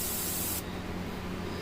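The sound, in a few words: airbrush spraying white Bombay India ink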